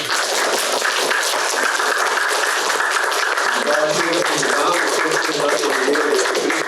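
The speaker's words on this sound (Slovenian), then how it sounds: "Hvala, en aplavz, prosim." An audience applauds a guest at a post-performance talk with a film director, steady dense clapping filling the room throughout, with a voice speaking over it in the second half.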